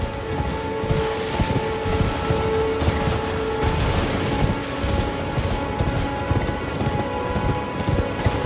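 A horse gallops through misty woods in Elden Ring, its hooves clip-clopping in a fast, steady rhythm up close, with rain-like ambience in the background.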